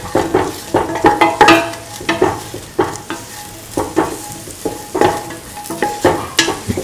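Spiced potato ivy gourd rice being stirred in a pan, rhythmic scraping strokes of a spoon over a light sizzle, close and repeated at a steady pace.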